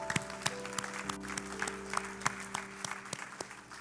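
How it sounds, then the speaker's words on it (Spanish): A church congregation applauds during a sermon, with sparse, distinct claps spaced irregularly over a low sustained tonal hum, fairly quiet and near. "Dale un aplauso al Señor."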